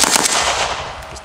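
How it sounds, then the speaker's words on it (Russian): An AK-12 rifle firing a short burst, a quick rapid string of loud close gunshots over about a second. "И теперь переключаем на режим стрельбы короткими очередями."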